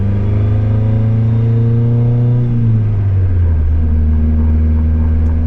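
A turbocharged Honda Civic daily driver on fresh 93-octane fuel accelerates up a highway on-ramp. A loud, close engine drone climbs steadily, drops in pitch midway as if shifting gears, then pulls on again without talk.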